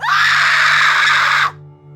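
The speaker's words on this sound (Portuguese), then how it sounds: "um grito ecoou pelos corredores" A single loud, piercing scream holds for about a second and a half, then cuts off abruptly, leaving a low hum.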